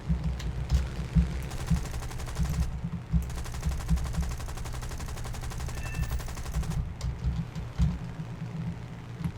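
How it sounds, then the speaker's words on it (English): Aircraft machine guns fire in War Thunder, rapid sustained bursts of rattling gunfire over a low droning engine, with a brief pause before the firing resumes and fades out near the end. "We got our stock bullets firing"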